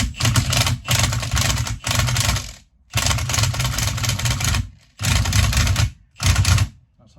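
Repeated bursts of rapid mechanical rattling, like a power tool driving a socket, come in five runs of about one second each, loud and close, while a BMW E82 front suspension spring is compressed for a Bilstein B12 kit.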